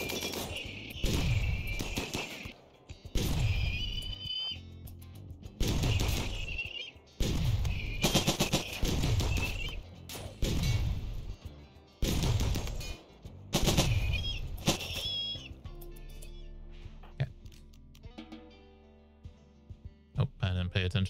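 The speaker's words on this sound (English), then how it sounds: "Are you shooting Solange?" Gunfire in the RimWorld video game comes in repeated loud bursts of rapid automatic shots every couple of seconds, thinning into scattered single cracks near the end.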